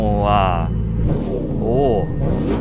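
A Bugatti Chiron engine revs up loudly twice in quick bursts, rising and falling in pitch, with a person talking over the rumble.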